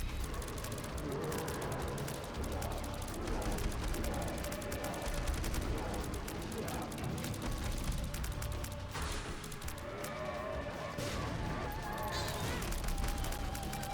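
Explosions and rapid gunfire-like blasts ring out in The Binding of Isaac: Repentance, a continuous barrage of bursts and booms crowding each other with hardly a gap.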